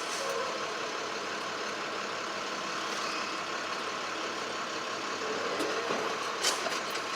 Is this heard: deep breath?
no